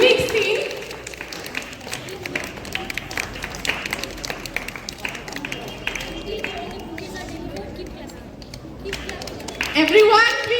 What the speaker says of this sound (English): Everyone, please give a round of applause for welcoming our Dr. Mahesh Kumar Chaudhary.